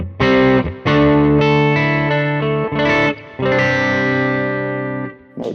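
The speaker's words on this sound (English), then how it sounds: "which is more of a vintage PAF kind of thing," An ESP LTD SN-1000FR electric guitar on its bridge humbucker in vintage PAF-style mode, driven into gain through a Lone Star amp, plays loud distorted chords in several strummed bursts with short breaks and a long, ringing final chord.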